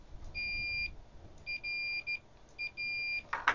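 Continuity beeper of a Fluke 233 remote display true RMS multimeter sounding in three steady electronic tones, the middle one briefly broken into short pulses, with quiet gaps between them.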